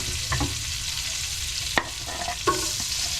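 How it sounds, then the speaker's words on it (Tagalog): Garlic sautéing in a pan while being stirred, a steady broadband sizzle with a few sharp scraping clicks of the spatula, close and alone with no voices. "Igisa na natin yung bawang."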